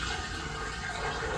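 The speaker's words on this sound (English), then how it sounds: "So I've got the washing machine going" Water from a running washing machine rushes steadily through household lines, a faint, continuous hiss and gurgle with no breaks and no voices.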